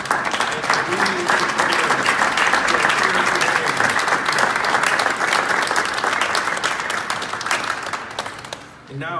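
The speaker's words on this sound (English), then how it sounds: "I'd like to please ask for a round of applause for this amazing coalition of organizations" A large audience at a New York City mayoral event applauds a coalition of organizations, producing dense, sustained clapping that stays loud and steady for several seconds and then tapers slightly near the end.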